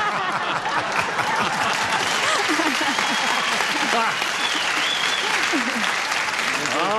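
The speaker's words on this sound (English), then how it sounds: "All the mothers out there are applauding." Studio audience at a 1978 television game show applauds steadily, a dense, even wash of clapping lasting throughout with faint voices beneath.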